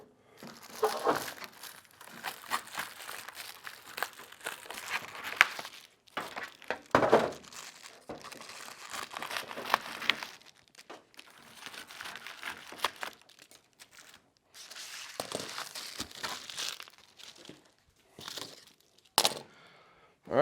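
Material around an HVAC flex duct connection is trimmed with irregular bursts of crinkling, tearing and scraping, close and fairly loud, broken by short pauses and occasional sharp clicks.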